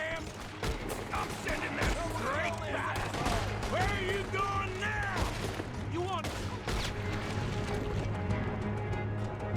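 Horse hooves pounding during a ride in the video game Red Dead Redemption 2, with a dense running clatter mixed with scattered gunshots and shouting voices throughout.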